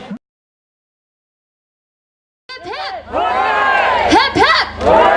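A crowd at an evening charity pedal-power fundraiser cheering and whooping loudly, bursting in after a brief shout and a stretch of silence, then sustained excited yelling.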